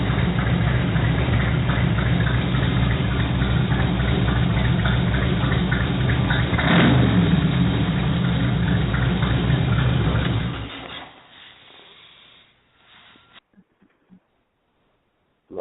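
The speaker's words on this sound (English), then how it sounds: "I'm going to go and start my scooter up." A scooter engine runs at a steady, loud idle for about ten seconds, then cuts off abruptly and leaves near silence with a few faint clicks.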